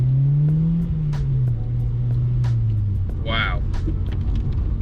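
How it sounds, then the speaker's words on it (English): A Honda Civic Type R EP3 with drop-in cams accelerates from inside the cabin, a steady droning engine note rising and falling with throttle under constant road rumble, and a voice briefly reacts. "I can hear what must be the cams in the engine."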